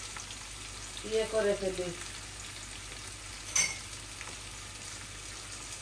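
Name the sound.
fish frying in a pan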